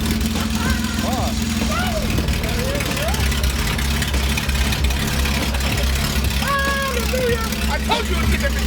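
A Porsche 911 SC engine freshly started and running, a steady, close, low idle rumble with a slight knock throughout, as people talk and whoop over it.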